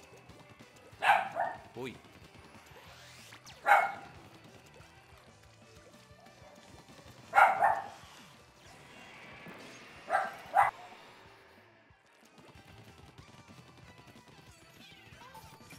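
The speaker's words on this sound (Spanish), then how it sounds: "Silenciamos un momento el micrófono porque mi perrita estaba ladrando." A small pet dog barks in short yappy bursts, four or five sharp barks spread over the stretch with quiet gaps between, mixed with occasional speech and faint game sounds.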